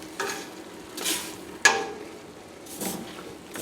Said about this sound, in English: Stir it around. Get it all mixed in there.